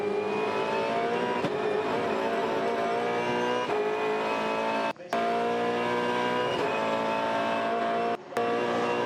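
Heard from onboard Jamie Whincup's V8 Supercar in the 2014 race at Albert Park, the engine howls loud and steady at high revs, with two short sharp cuts for gear changes and no voices.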